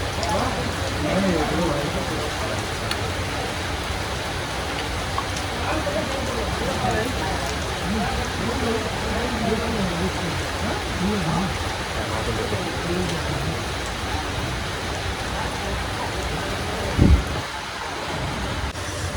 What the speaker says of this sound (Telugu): ఒక పక్కన వాన పడుతుంది